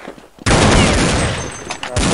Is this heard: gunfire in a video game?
yes